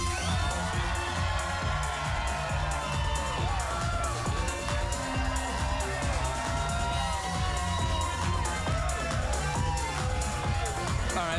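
Late-night talk show studio audience cheers and applauds loudly and continuously, a thick crowd roar with whoops and shouts sustained throughout.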